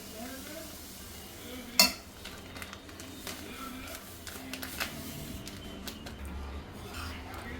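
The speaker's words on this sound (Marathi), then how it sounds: "रवा व्यवस्थित भाजून घेते" Half a kilo of fine semolina roasting in hot ghee in a pan is stirred with soft, intermittent scraping and faint sizzling. A single sharp utensil clink comes near the start.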